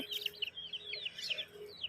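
Chickens cluck and chirp in a series of short, sharp, high calls repeating irregularly at close range over quiet background.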